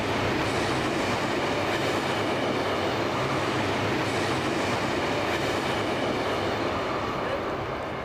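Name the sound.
passing train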